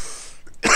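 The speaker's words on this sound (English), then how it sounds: "Sorry about the cough, fam." A single short cough from a person, a brief harsh burst at close range after a faint breathy lead-in.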